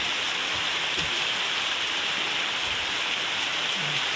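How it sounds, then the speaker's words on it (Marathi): Monsoon rain falls steadily over a village in the Konkan hills, a dense, even, unbroken wash of drops heard nearby without pause. "गावचा पाऊस बघा रे बाबा"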